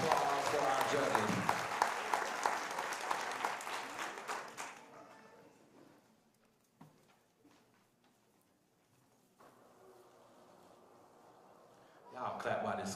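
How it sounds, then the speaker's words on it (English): Audience applause for the judges at a Dancing with the Stars charity show, loud clapping for about five seconds that fades to near silence with faint scattered sounds, then a fresh burst at the very end. "give each judge a round of an applause for our judges"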